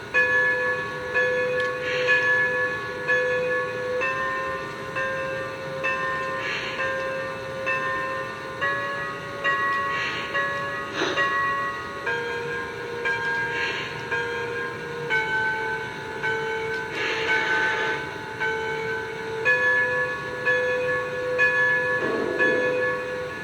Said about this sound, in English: Here's the bell.